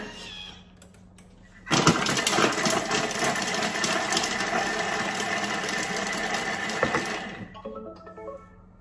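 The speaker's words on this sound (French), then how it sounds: "Et on va mixer 5 secondes, vitesse 5." A food processor blends shallot, garlic and butter at speed 5: a loud, steady motor whir cuts in abruptly, runs about five seconds, then stops, leaving a faint background hum.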